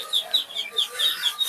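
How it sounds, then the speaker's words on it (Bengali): At a bird market, quail give short, sharp, high calls in a quick broken series, loud and close. "আপু তো কোয়েল পাখি"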